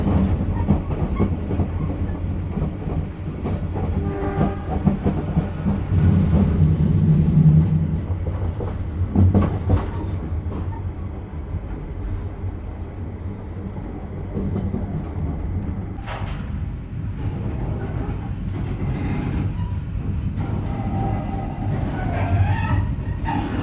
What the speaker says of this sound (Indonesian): kereta api Sancaka Utara telah tiba di stasiun Gambringan